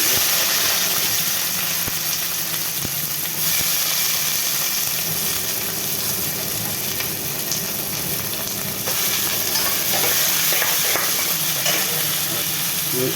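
Kheski fish frying in a pan gives a steady, loud sizzle with continuous hiss and occasional crackles and stirring scrapes throughout.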